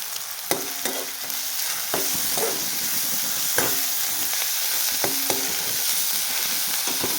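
Tomatoes stir-fried in a pan for a soybean curry give a constant sizzle, broken by repeated sharp scrapes and knocks of a spoon against the pan.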